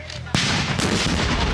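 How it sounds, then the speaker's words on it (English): An exploding hammer blast at a festival hits as one sudden, loud crack, followed by a sustained roaring rumble and crowd noise that fill the rest of the moment. "They keep trying to do bigger and bigger explosions"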